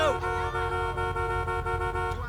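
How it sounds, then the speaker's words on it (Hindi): A car horn honks in the GTA V video game, a steady tonal blare held under soft game noise with slight pulsing, fairly close and moderately loud. "अबे हॉर्न बजाना पड़ेगा।"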